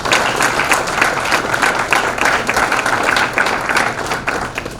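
An audience at a hotel event claps in sustained applause, dense and even throughout with no voices rising above it.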